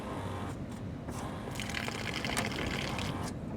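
Water from a large onboard tank on an overland Ford F250 runs out of a tap at the back of the truck, a faint continuous splash and gush with no talk.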